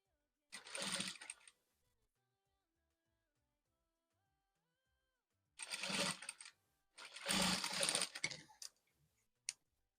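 A sewing machine stitches a gathered dress seam in three short bursts of rapid mechanical running separated by pauses, close and clear, ending with a single small click.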